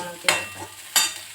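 Egg bhurji sizzling in a pan as a spoon stirs it, with two distinct scraping strokes over a steady close frying hiss and no talk.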